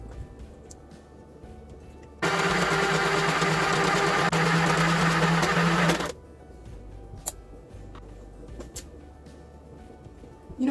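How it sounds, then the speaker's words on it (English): Sewing machine stitching rows of a memory quilt in one loud, continuous burst of a few seconds, close up, with quiet room noise and small handling clicks before and after. "I'm pinning it together and I'm sewing it"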